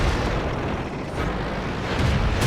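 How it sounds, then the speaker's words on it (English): Hetzer tank destroyer firing its gun in the World of Tanks game, heavy booming blasts with a rumbling roar, loud and sustained with a thick low-end wash and a fresh surge near the end. "So I'm just gonna start pumping shots from the Hetzer."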